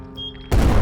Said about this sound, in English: There was an explosion that brought the entire mine down on David.